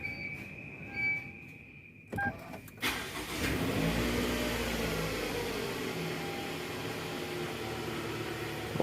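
A repaired Toyota Alphard engine starts after a couple of brief clicks and knocks, then runs at a smooth, steady idle, heard close and moderately quiet in a workshop.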